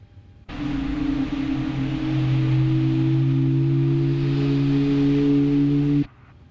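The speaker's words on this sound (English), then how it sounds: "So I'm going to introduce fuel on the left engine." Simulated Boeing 737 MAX 8 left engine spooling up during start in Microsoft Flight Simulator 2024, a loud rising whine with steady tonal hums that swells, holds for several seconds and then cuts off abruptly.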